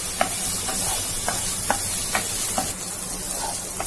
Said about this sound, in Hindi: और अब मैं इसमें डालूंगी 1 टीस्पून जिंजर गार्लिक पेस्ट, और उसको भी प्याज के साथ अच्छे से भून लेंगे हम।